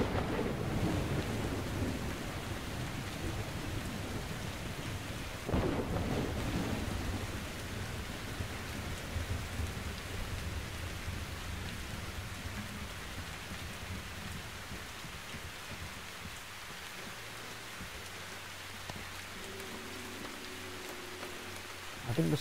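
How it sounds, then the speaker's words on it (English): Rain and a thunderstorm in the video game Metro Exodus, a dense steady downpour hiss with a deep rumble of thunder rolling in early on, continuing loud and unbroken. "I think the storm's gonna calm down as well."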